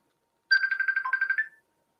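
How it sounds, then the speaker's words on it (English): A short Facebook call ringtone plays once, a quick rapid pulsing trill of bright tones lasting about a second, alone against silence. "please stop continually calling me on Facebook"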